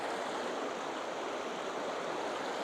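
Steady broadband rush of a river flowing below a viewpoint on a Colorado trail, a continuous close wash of water with no voices.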